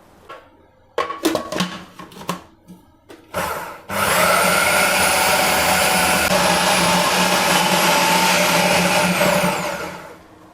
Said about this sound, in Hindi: कीमे को हमने इस तरह से एक चॉपर में चॉपराइज किया है